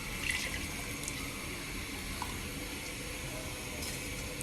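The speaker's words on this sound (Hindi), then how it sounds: "मैं थोड़ा सा और पानी डालूंगी इसमें।" Water pours steadily into a cooking pot of beef paya in a home kitchen, a continuous close splashing rush with no pauses and no voices.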